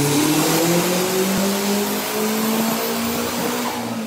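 A Toyota Corolla KE70 drift car fitted with a Nissan CA18DET turbo engine revs hard nearby, its engine note rising and sustained loudly throughout with no talk over it.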